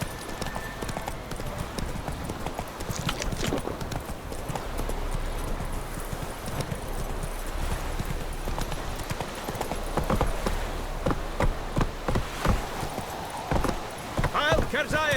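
Roach the horse trots in The Witcher 3, hooves clip-clopping in a steady, close rhythm for the whole stretch while someone talks over the gait.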